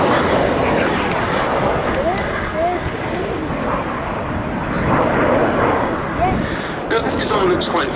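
A BAC Strikemaster jet performs a flying display at Duxford air show, and its engine roar rises and fades in the distance under continuous commentary from a public-address announcer.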